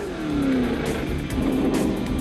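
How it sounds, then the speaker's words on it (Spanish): A Ford Mustang Boss 429, a limited-production muscle car with a racing-derived engine, revs loud and close, its engine note rising then settling across a couple of seconds with continuous mechanical roar. "El Boss 429 era un Mustang de producción artesanal y serie limitada con un motor diseñado para correr."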